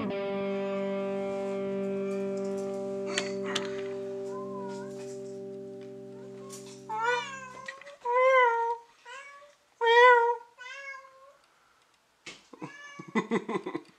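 A pet cat meows several times in quick, drawn-out cries near the microphone, coming after a sustained electronic tone that fades out, with quiet gaps between the calls and no talking.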